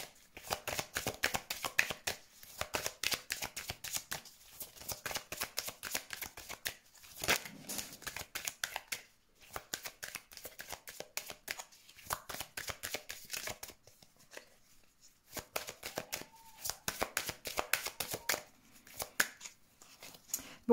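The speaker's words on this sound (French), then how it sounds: "il n'y a plus de cartes qui tombent, on va faire le tirage" Tarot cards shuffled by hand in repeated crisp riffling bursts with short pauses between, close and fairly quiet, no voices.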